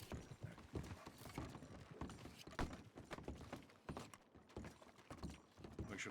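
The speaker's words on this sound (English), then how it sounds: "He's getting our horse over here in a second." Horse hooves clip-clop in a video game, a steady run of soft, fairly faint hoofbeats under a busy background bed, with no talk over them.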